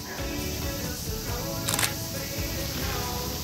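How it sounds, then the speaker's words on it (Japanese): A Nikon camera's mechanical shutter fires in a quick cluster of sharp clacks midway through, close and crisp against a constant outdoor background hum. "こうシャッターさ、はい、バシャッと降りるやん"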